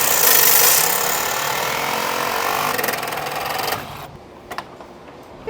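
A Sawzall reciprocating saw cuts through the grill tabs on a Jeep, a loud, steady buzzing rasp close by for about four seconds, then it stops, leaving a few faint clicks and knocks.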